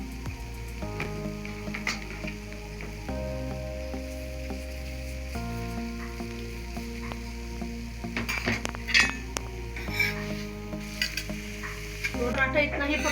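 An oiled paratha cooks on a hot pan with a steady, soft sizzle and the odd clink of a utensil, all under continuous background music.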